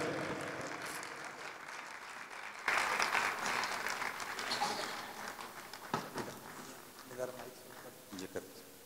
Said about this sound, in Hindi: एक जोरदार ताली बजा के स्वागत करें